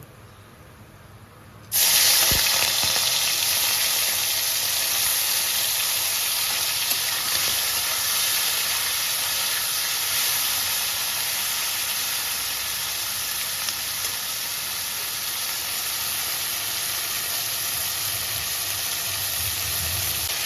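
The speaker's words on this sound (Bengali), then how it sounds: "এবার আমি চিংড়ি মাছটা ভেজে নেব" Prawns hitting hot oil in a pan, a sudden loud hiss that jumps in after a quiet start and carries on as a steady, close sizzle without letting up.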